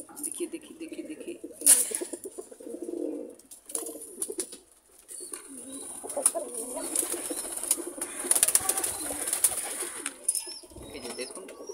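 Pigeons coo in low, throaty bursts while eating cabbage and cauliflower feed, with occasional wing flaps and shuffling close by as a person speaks over them.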